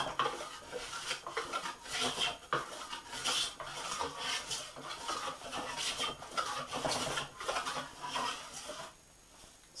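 A Silverline No. 5 scrub plane modified for rough work shaves a fir board held in a vise, making repeated close rasping strokes in a steady rhythm that stop near the end.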